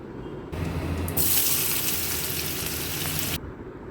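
Cut potatoes tipped into a pan of hot oil with cumin, dried red chili and bay leaf, setting off a sudden loud, dense sizzle that holds steady for about three seconds before dropping away.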